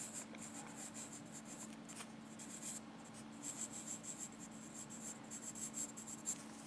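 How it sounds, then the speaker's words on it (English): A pen signs a signature on paper with quiet, scratchy strokes in short bursts that grow busier toward the end, heard up close and alone. "let me just go on and draw my signature right here"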